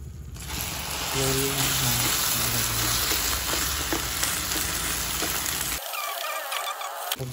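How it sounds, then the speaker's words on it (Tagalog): Sugar melting in a pan for biko, a steady close sizzle and bubbling that runs almost throughout, with a brief quieter stretch near the end. "mag-melt tayo ng sugar dyan. Melt natin ngayon sa matulang guys."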